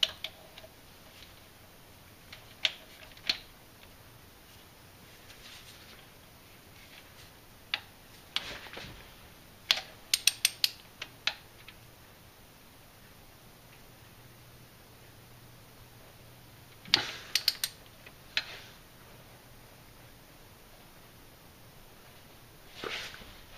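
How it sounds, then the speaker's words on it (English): A torque wrench tightens a camshaft sprocket bolt to 90 foot-pounds on a 4.7 HO engine, giving scattered sharp ratcheting ticks and clicks in short clusters over a very quiet background. "A torque wrench set to 90 foot-pounds."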